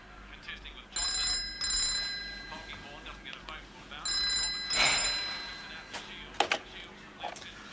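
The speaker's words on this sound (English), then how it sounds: "Mum, phone." A 1980s household telephone rings in two long trilling bursts with a pause between them, clear and fairly close, with faint background noise and brief voices afterward.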